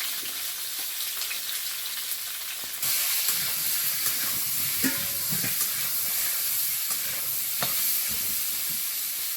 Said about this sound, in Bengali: আলুটা প্রথমে একটু ভাজবো